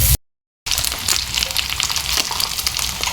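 Onions and garlic sauté in a little oil for a stir-fried beef dish, a loud, steady close-up sizzle that cuts out briefly near the start, then crackles on continuously.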